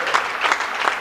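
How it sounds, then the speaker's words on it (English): Applause from a Saints team bench rising at the end of a men's college basketball game, steady clapping filling a gym, close and fairly loud with no talk. "The Saints benches rise and start the clapping."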